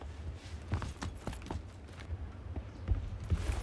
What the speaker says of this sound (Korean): 발소리 들린다.